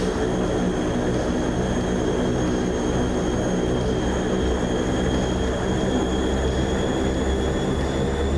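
Fokker F100 twin jet engines spool up with a steady broadband roar and thin high whines as the brakes are released in Microsoft Flight Simulator 2024, constant and loud throughout.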